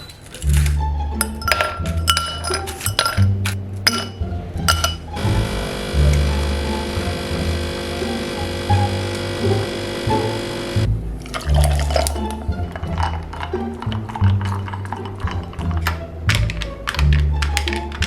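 Glass clinks and light taps while cold coffee is made at home, with a steady electrical hum running through and a louder sustained droning stretch in the middle.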